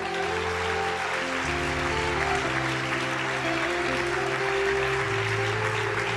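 A congregation at a charismatic church service in Brazil claps steadily and continuously, a dense wash of applause layered over sustained music throughout.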